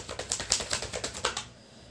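A tarot card deck is shuffled in a quick run of about eight crisp, papery riffling bursts, close and fairly quiet, then it falls still.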